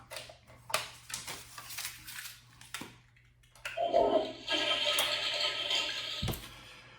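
A toilet flushes with a rising rush of water that swells and churns for a few seconds before fading, heard close and alone.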